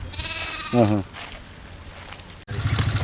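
Hornless rams and goats let out two distinct bleats, one loud, wavering call early and a shorter one at the end, separated by quiet outdoor background.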